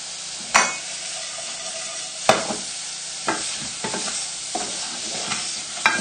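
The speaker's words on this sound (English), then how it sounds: "Just stir the mushrooms." A utensil stirs mushrooms in a hot pan, with scraping strokes and occasional clacks over a steady sizzle.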